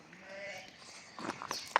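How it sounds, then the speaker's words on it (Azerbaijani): Balalı Boğaz breed sheep in a flock of about a hundred bleat close by: a couple of short, nasal bleats rising toward the end of the brief moment over faint background noise. "Bak cins koyundu."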